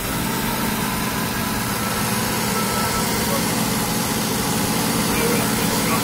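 A 1972 BMW 2002 engine idling steadily just after starting, a loud, continuous, even drone that holds without a break from start to finish.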